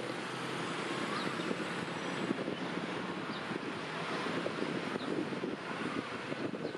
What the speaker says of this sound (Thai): ก็ลมแรงหน่อยนะฮะ